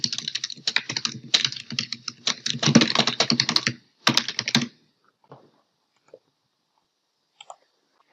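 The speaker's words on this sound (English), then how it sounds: "we can even go in here and type in a description for this data product." Typing on a computer keyboard while entering a description for a data product in a software tool, with dense rapid key clicks for about five seconds, then a few scattered isolated taps. Close and fairly loud, with no talk.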